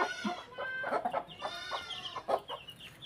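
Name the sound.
chickens clucking on a farm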